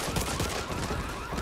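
Rapid gunfire from the Back 4 Blood video game, a dense fusillade of overlapping shots filling the whole moment at steady loudness with no clear pauses.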